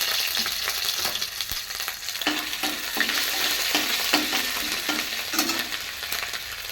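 Cumin seeds, bay leaf and ginger crackle in hot oil with a dense, bright sizzle. Soft stirring strokes come through it at a steady rhythm, close and fairly loud, with no one speaking.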